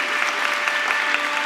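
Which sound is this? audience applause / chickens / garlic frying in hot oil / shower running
audience applause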